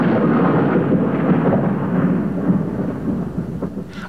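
Thunder from a lightning strike rolls and rumbles low and heavy, loud and sustained for several seconds without letting up.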